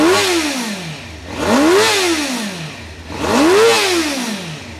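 A 2003 Suzuki GSX-R 600 Alstare Limited Edition motorcycle engine misfiring on one cylinder, revved in two loud rising-and-falling surges over a rough, uneven idle, close up with no talking.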